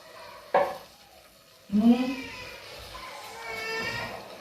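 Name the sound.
mustard oil sizzling as bottle gourd is cooked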